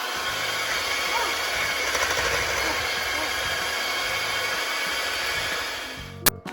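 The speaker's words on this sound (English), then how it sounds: "I'm gonna be whisking it right now" Eggs, heavy cream and butter whisked together for corn pudding, heard as a steady, loud, close whirring drone that runs without a break and ends with a short clatter.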